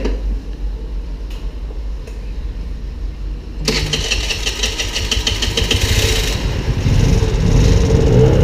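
A 50cc scooter engine starts up after a few seconds of quiet idle hum, then settles into a loud, buzzy, close running drone that swells slightly toward the end.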